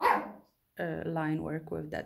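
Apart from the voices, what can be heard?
dog barking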